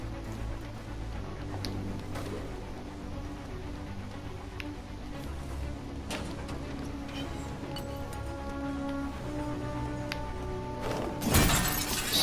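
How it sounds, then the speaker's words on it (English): Objects smash in the video game Detroit: Become Human: scattered sharp cracks and clatters sit over a busy game soundscape, ending in a louder crash of shattering debris near the end. "Smashing's fun."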